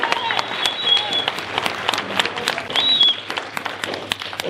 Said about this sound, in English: So just everybody give a round of applause for Jason.